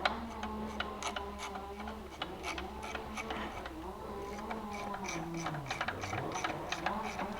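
A ratchet works a reverse-threaded pulley bolt loose on a 2004 Subaru Legacy AC system, giving a rapid run of clicking pawl ticks close up over a low steady hum.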